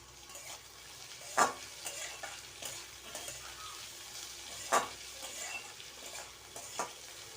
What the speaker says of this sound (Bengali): আলুটাকে সুন্দর করে ভেজে নিয়েছি